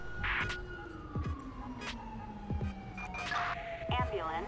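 A wailing ambulance siren in GTA 5 sweeps slowly downward under a droning background, with occasional sharp clicks and whooshes interrupting.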